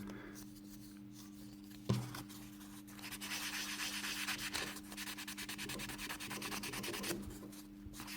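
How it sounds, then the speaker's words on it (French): Final hand sanding of a 1/24 Fujimi Ferrari 330 P4 1967 plastic model kit part before painting, a soft steady rubbing rasp in back-and-forth strokes, close and quiet with one faint knock near the start. "là, c'est l'ultime ponçage avant la couche définitive de peinture"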